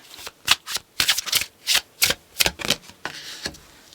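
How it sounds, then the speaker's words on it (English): Tarot cards being shuffled in a series of crisp riffling bursts with short pauses between them, close and fairly loud, with no talking. "Please show us the cards."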